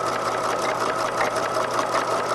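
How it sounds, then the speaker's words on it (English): A sewing machine stitches a bound seam along a garment edge with a steady, rapid mechanical whir and a fast, even needle rhythm, close and continuous throughout. "I'm sewing right along that edge"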